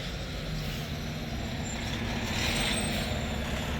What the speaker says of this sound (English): here's the bus rolling up.